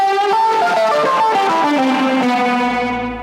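Saturated, distorted tone through pedal and amp effects, a run of bright, sliding sustained notes with a dense buzzing edge, loud and steady, tapering at the end.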